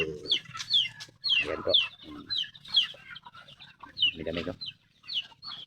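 A flock of farm chickens clucks and squawks nearby in repeated sharp calls, with occasional higher cries, while someone talks briefly among them.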